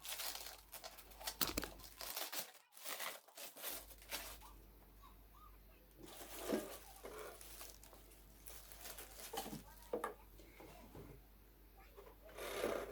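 Stretch film and tape are peeled and torn off a Karaca Pro Cook XL air fryer, giving close crinkling, rustling and tearing sounds in irregular bursts with brief pauses.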